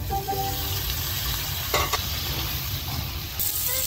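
Long beans frying in a pan for veg pulao, a steady close sizzle with brief scraping bursts as they are stirred.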